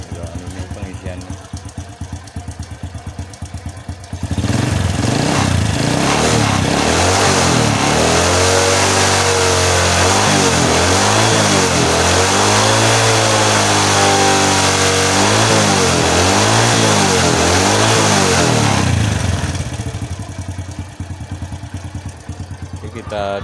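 A starter cranks an engine, which catches and runs loud and close for about fifteen seconds, revving up and down in repeated swells before cutting off, with quieter sounds and voices around the quiet stretches.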